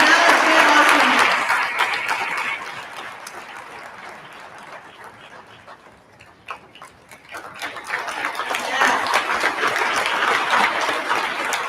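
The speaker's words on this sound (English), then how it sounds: "Senior members, please rise so we can give one final round of applause for all of our new members." Standing applause at a National Honor Society induction ceremony, a large audience clapping loudly, fading to a quieter patch in the middle before swelling again into sustained, dense clapping.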